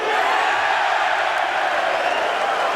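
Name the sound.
crowd cheering at Mosconi Cup pool match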